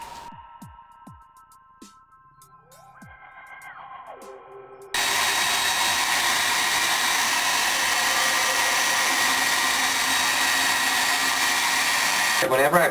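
A heat gun roars on at close range to warm an aluminum-blackened Obi-Wan saber replica. Light handling clicks and tones come first, then a loud, constant blowing hiss runs to the end.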